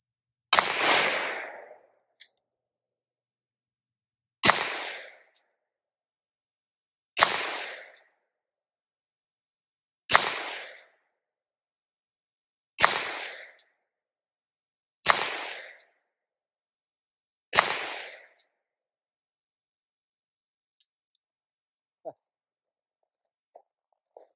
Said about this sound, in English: we're going to shoot single action just to get the best accuracy